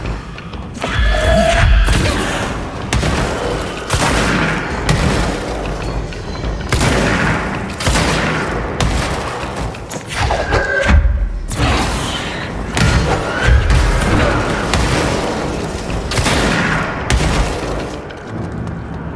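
Explosions from the video game Control, repeated heavy booms and thuds arriving every second or two, loud and close, layered over continuous game noise with no talk.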